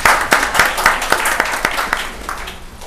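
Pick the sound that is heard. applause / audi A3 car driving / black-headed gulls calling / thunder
applause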